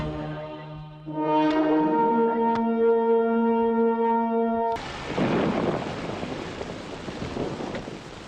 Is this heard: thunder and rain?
yes